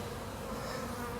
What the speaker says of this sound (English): that box was absolutely loaded with bees